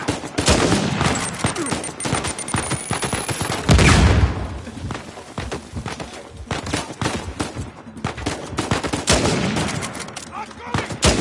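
Rapid gunfire from Uncharted 4 gameplay, dense bursts of shots crackling throughout with a heavier blast near the middle, while players shout over the action.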